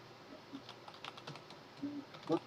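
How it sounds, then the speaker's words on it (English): Keys on a computer keyboard are tapped in an irregular stream of soft clicks, close but faint over a steady low room hum, with no voices. "Look at the computer keyboard."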